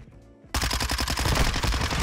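Rapid automatic gunfire from a weapon in a video game starts suddenly after a quiet moment and keeps going as a loud, dense stream of closely spaced shots.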